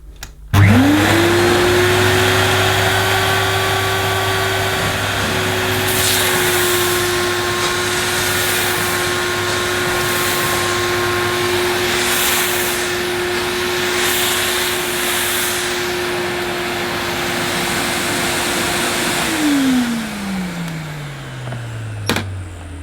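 Hoover AquaPlus 1700 wet and dry vacuum cleaner starts with a sharp rise to a steady, loud whining motor drone, holds for about twenty seconds, then is switched off and winds down, its pitch falling away.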